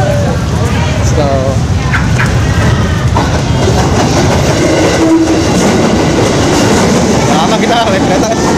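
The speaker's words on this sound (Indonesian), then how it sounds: "Kereta lagi mau jalan depan kita guys." A train rolls past close by, making a loud, continuous rumble with clickety-clack from the wheels and brief squeals, while faint voices sit underneath.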